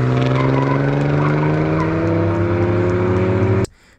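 Race cars brake hard and struggle to slow for the bends on a circuit, a loud, sustained engine drone with layered tonal whine that holds steady, then cuts off abruptly at the end.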